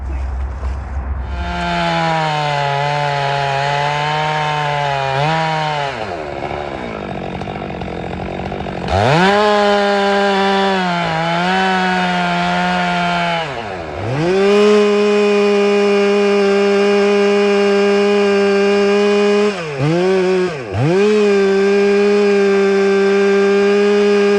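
Chainsaw cutting into the wide trunk of a big white oak from both sides of the bar; loud, close engine whine holds steady, drops and surges several times as the chain bogs and revs, with no talking.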